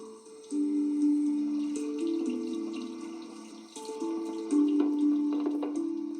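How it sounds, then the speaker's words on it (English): Water runs steadily from a tap for several seconds, a continuous splashing rush that swells louder partway through, with no talking. "let me run some cool water on it"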